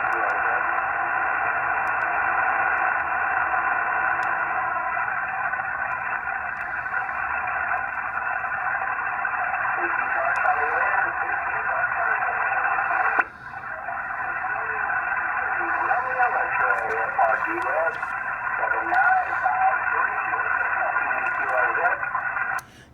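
Shortwave ham radio static with a band-limited hiss and faint muffled voices from a receiver, steady throughout with a brief dip partway through.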